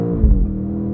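A 2024 BMW X5 M Competition engine blips loudly on a quick manual-paddle downshift, a deep throaty rev swelling briefly then settling into a steady low drone inside the cabin.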